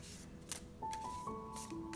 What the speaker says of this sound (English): There is a sound which comes while you shuffle, as they are not glossy, and there's a kind of friction in them.